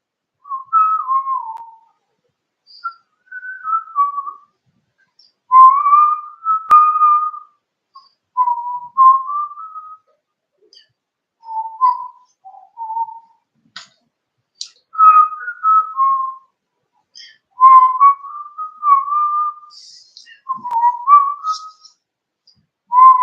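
A person whistles the tune of the song "Bill Grogan's Goat" alone, in clear, loud melodic phrases separated by short pauses.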